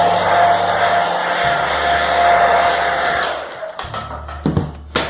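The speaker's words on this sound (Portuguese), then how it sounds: "Eu vou passar o secador aqui para acelerar o processo de secagem" A hair dryer blows steadily and loudly on fresh paint on a handmade craft document box, then cuts off after about three and a half seconds, followed by a few clunks and handling sounds.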